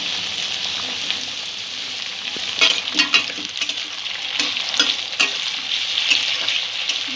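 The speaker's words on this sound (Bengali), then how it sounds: "টমেটোটা একটু নরম হওয়া পর্যন্ত ভাজতে থাকবো।" Potatoes and tomato frying in a pan over medium-low flame for a bhindi curry, a continuous close sizzle broken by several clattering stirs of a spoon, no talking.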